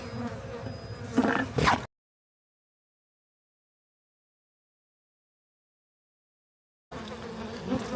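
Agitated honey bees swarming around a hive wrecked by a storm, a dense close buzz that cuts out into several seconds of silence before returning.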